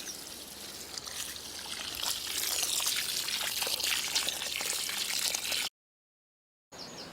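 A steady trickle of water pours onto the soil of a transplanted cordyline for several seconds, close and fairly soft, then cuts off abruptly.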